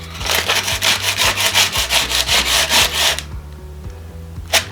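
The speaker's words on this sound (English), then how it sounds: "Luckily for me, I've got some sandpaper." Coarse sandpaper rubbed by hand over the rough wood of a birdhouse, a steady train of loud, rhythmic back-and-forth strokes that stop abruptly, followed by quiet and a single faint knock.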